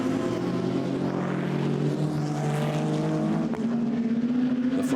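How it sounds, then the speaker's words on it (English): Race cars, an HB Racing Ferrari 488 GT3 dueling with a Mercedes-Benz at Oschersleben in a GT Masters race, roar past with loud, sustained engine notes and shifting pitch, close and continuous. "Dominic Schweger, HB Racing Ferrari 488 GT3, which is further down the order than would like to be. Fighting with that Mercedes-Benz"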